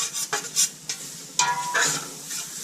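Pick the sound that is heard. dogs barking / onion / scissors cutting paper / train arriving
onion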